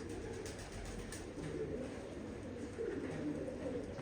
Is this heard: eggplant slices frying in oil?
no